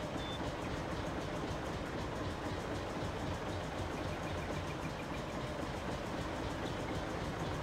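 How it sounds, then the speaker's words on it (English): Old John Deere 850 diesel tractor plowing a field in Farming Simulator 19, a steady, continuous engine drone with a rough, knocking chug that holds evenly throughout with no voices. "Still using the old John Deere 850 diesel here, by the way, for the plowing."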